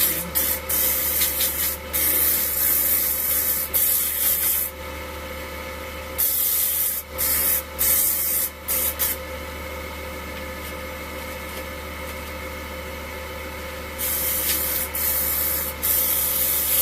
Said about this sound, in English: Now I have to sand it.